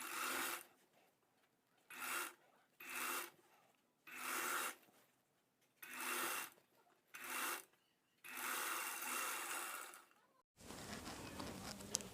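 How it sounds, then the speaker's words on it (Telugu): A tailoring sewing machine stitches a sleeve seam on a boat neck blouse in a series of short whirring bursts separated by quiet pauses. A different, noisier sound follows at the end. "మళ్ళీ రెండో కుట్టు దాని మీదే ఇంకొక కుట్టు వేసుకుంటూ వచ్చేయాలండి"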